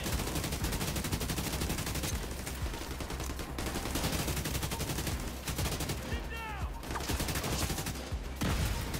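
Rapid automatic gunfire from the video game Division 2 comes in long, loud, sustained bursts with brief pauses between them, and a faint voice may sit underneath.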